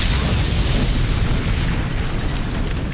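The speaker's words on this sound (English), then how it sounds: "blowing up the entire toy shop." A trail of fuel burns into a toy shop in the film Doghouse and blows it up, a loud, dense, roaring explosion that fills the whole stretch before cutting off abruptly.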